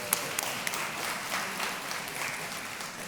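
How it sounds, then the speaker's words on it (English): Audience applause at a Food Tank "All Things Food" panel during SXSW, a steady wash of many hands clapping that holds evenly throughout at moderate loudness, with a few sharper individual claps standing out near the start. "Please give her another round of applause."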